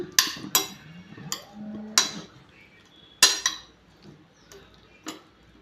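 A spoon scrapes and clinks against a bowl while paneer masala is stirred together with chilli powder, with sharp metallic taps at irregular intervals and a short grinding scrape in between, close and clear.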